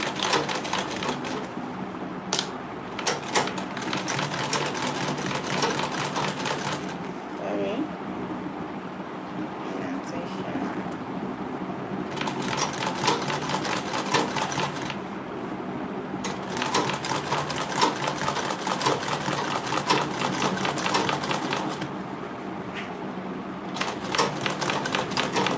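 A sewing machine back stitches a simple unlined tote bag in short rattling bursts separated by brief pauses, close by, with a voice talking over and between the runs.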